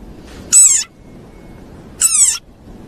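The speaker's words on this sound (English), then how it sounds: "this is the sonorous war cry of a very angry frog" An angry frog lets out two loud, squeaky, toy-like screeches about a second and a half apart, each lasting a fraction of a second, close up against a quiet background.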